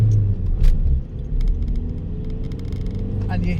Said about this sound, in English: tiny little turbo working away